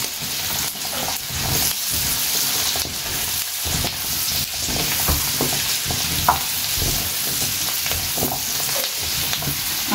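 Chunks of pumpkin tipped into a curry pan and stirred, frying and sizzling steadily in hot oil with scraping stirs throughout, close and fairly loud with no talking.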